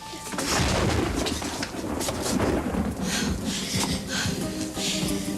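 A thunder and rain storm in a television drama scene, with a continuous rush of rain and low rumbling thunder that rolls and swells throughout, loud and close, with no clear talk over it.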